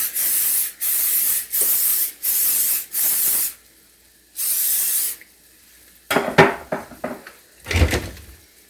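Butter sprayed from an aerosol can onto a muffin pan during low-carb meal prep: five short bursts of hissing spray in a steady rhythm, then one longer burst, followed by clattering and knocking of kitchen items, close and loud.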